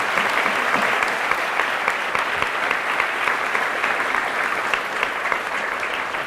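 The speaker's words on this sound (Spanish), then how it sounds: "Fuertes aplausos al Rey de Reyes, a Jesús de Nazaret." A congregation at a Catholic sermon claps in sustained, dense applause that holds steady and loud throughout, with faint voices in the crowd.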